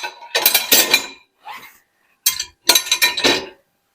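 Plates, pans and lids clink and clatter as they are loaded into a dishwasher in a few quick bursts with short pauses between, close and fairly loud.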